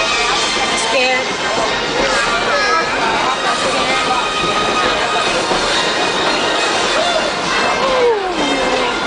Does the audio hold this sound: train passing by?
yes